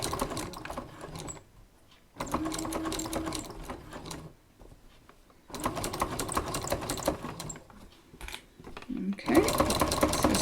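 Sewing machine stitching quilt sashing at stitch length 3, running in several close bursts of rapid mechanical chatter separated by short pauses.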